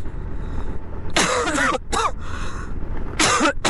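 Coughing and throat clearing from someone with a cold, three loud harsh bursts close by against steady road and engine rumble from a motorbike ride.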